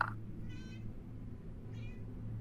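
A person imitates a cat's meow twice in quick succession during a tabletop role-playing game session, producing soft, short, nasal mewing calls over a low room hum.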